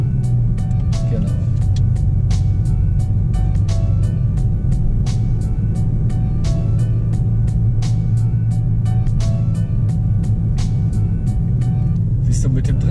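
Car in third gear on a driving lesson near the Autobahn, cabin engine and road drone held steady and loud throughout, with faint ticking sounds over it and no talk heard.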